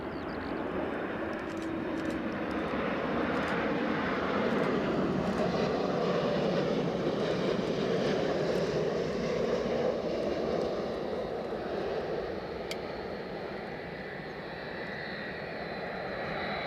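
A WestJet airliner at an airport fills the air with a steady jet engine roar that holds throughout at moderate strength, with no talking.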